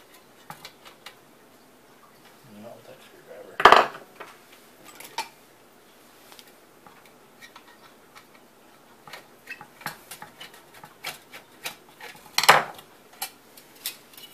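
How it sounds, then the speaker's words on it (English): A bolt is worked into a blind hole inside a 1915 Landers Frary & Clark Universal E945 toaster. Faint metallic ticks and scrapes come in a scattered pattern, with two louder clattering knocks in a quiet room. "I'm just trying to guide it in through this blind hole here."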